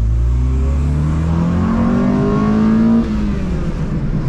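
A car engine revs hard in a sustained run, its pitch climbing steadily and jumping sharply as VTEC engages near the top before easing off; loud and close, with no talk over it.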